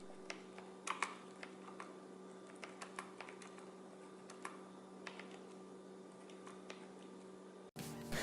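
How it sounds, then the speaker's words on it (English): Soft, muted keystrokes tap irregularly on an Azio HUE 2 wireless keyboard with rubbery keys, over a steady electrical hum, the typing faint and close with no voices. "this is the most quiet keyboard I have ever used"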